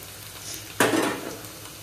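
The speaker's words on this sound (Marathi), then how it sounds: "कांदा जळत चाललो" Onion frying in a pan for a chicken dish, a sudden loud burst of sizzle and a spatula clatter that quickly settles back to a quieter hiss.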